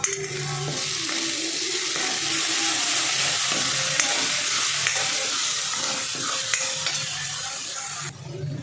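Spices being sautéed in a pan for a besan sandge curry, with a spoonful of black chili powder just added, fill the clip with a steady, close sizzle and repeated scraping stir strokes. No one speaks.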